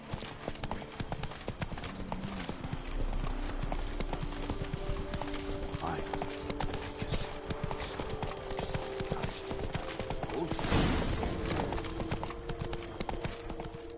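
Horse hooves clip-clop steadily on a path in The Witcher 3, the horse Roach trotting at a constant near pace, with a voice speaking over the hoofbeats and game background sound throughout.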